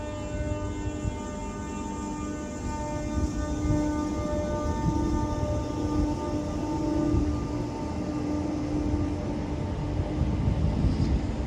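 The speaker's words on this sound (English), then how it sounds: "Departing again now is the 1555 Northern service from Stalybridge to Southport" A Northern service, unit 769,456, departs Stalybridge station bound for Southport, with a steady engine drone and rumble holding throughout at a fairly constant level, nearby and unbroken by talk.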